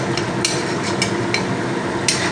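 Kachori puffs fry in hot oil, giving a steady dense sizzle with a few sharper crackles and light clinks of a utensil, close and moderately loud.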